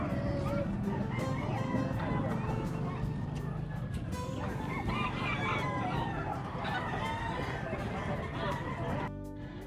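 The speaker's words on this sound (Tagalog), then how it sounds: "Mga manok" Chickens and roosters at a busy outdoor pet market in Angeles, with roosters crowing and hens clucking repeatedly amid crowd chatter and background noise, voices talking nearby.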